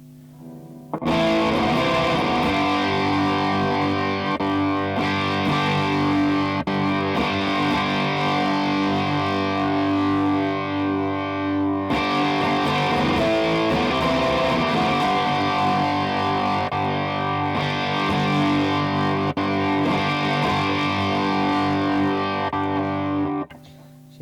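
Electric guitar played through a distortion pedal used as a boost, thick sustained chords ringing loudly with a short pause midway, no talking.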